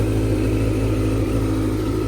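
A 2004 Suzuki GSX-R 1000 motorcycle engine with slightly loud cam followers runs at a steady, loud idle, a continuous close rumble with an even pulsing throb throughout.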